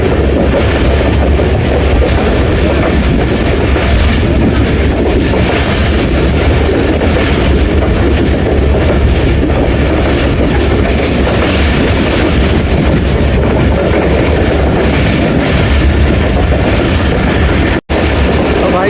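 A train runs on rails near Bakrala railway station on the Gujrat to Attock line, producing a loud, steady rumble and rattle close by that lasts without a break.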